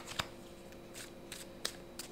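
Tarot cards being shuffled, with a few brief, crisp riffles and flicks spaced out over about two seconds, quiet and close against a soft background hum.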